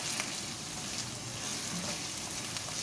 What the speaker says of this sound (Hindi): गोश्त को अच्छी तरह अब मैंने प्याज के अंदर फ्राई कर लेना है तकरीबन 4 से 5 मिनट तक